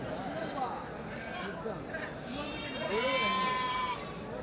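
Local breed rams bleat at a busy weekly sheep and goat market, a few calls rising over a dense crowd murmur; people talk nearby throughout.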